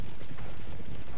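Cavalry horses gallop in a Chosokabe campaign of a samurai strategy video game, a dense, continuous rumble of many hooves thudding together at close range with no pauses.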